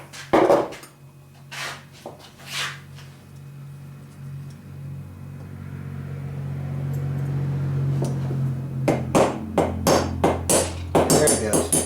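Hammer blows driving a stuck pin out of a 1975 Suzuki TC 185 carburettor, sharp metallic knocks close up, a few at the start and then a fast string of taps, over a steady low hum.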